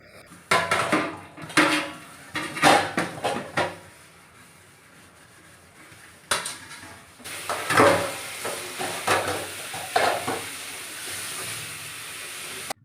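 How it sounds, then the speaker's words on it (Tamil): Pots and dishes washed in a home kitchen sink in Maharashtra: metal utensils clatter and knock in uneven bursts over running water and hiss, with no talking. "சிங்க்கில் பார்த்தீங்கன்னா கொஞ்சம் பாத்திரம் கிடந்தது சரி அதை கழுவ ஆரம்பிச்சிடலாம்"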